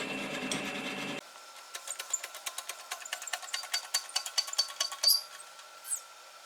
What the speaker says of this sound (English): This is then plug welded in between the top rail and the bottom lip of the front panel.